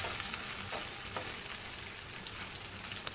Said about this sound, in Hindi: अब मैं इसको अच्छे से मिक्स करूंगी